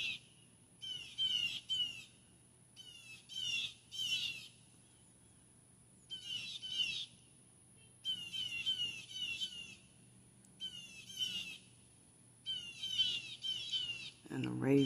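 Ravens perched on top of a pole out in the open give repeated harsh squawking calls in several bursts, near and fairly loud, with a low steady hum underneath.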